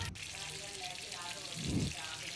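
Fish frying skin side up in a shallow layer of oil in a home kitchen: a steady broadband sizzle with a brief low bubbling burst near the end.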